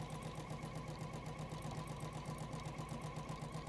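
A sewing machine stitches across the collar of a jean jacket, running as a steady, fast, rhythmic mechanical chatter throughout, fairly quiet and with no voices over it.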